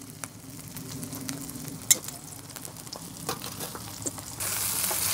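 Burgers browning in a frying pan inside a Carthago motorhome kitchen give a steady, close sizzle, with a few sharp clinks and scrapes of a utensil against the pan.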